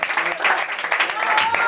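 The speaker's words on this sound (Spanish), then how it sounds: "¡Aplauso fuerte!" Short burst of lively clapping from an audience at a martial arts and art event, loud and close, with voices mixed in over the claps.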